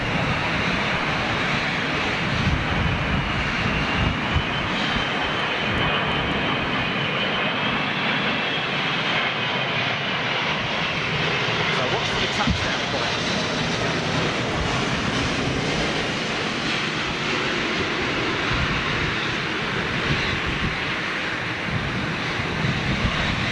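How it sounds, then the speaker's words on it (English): An Airbus A380 lands in a crosswind with only its inboard reversers deployed, giving a heavy, continuous jet roar that stays loud and close throughout. "Massive side blast from that 380"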